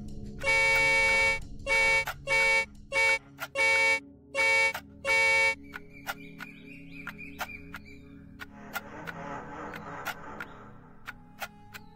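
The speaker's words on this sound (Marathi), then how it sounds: "याका हॉर्न म्हणतात" A horn honks in a rapid series of about six loud, blaring toots of uneven length, followed by a quieter stretch with scattered clicks and low background noise.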